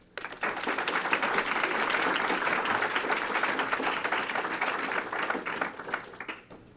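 A large audience applauds a panel being welcomed onto a stage, a dense, steady wash of clapping that swells quickly and holds for several seconds before tapering off.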